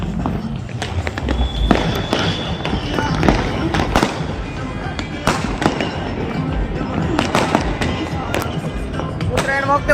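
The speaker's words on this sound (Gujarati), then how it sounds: "જો તો કેવા ફટાકડા ફૂટે મારા કલેજા" Firecrackers and fireworks burst again and again at a Makar Sankranti kite festival, with sharp cracks and pops over a busy outdoor crowd, and voices talking throughout.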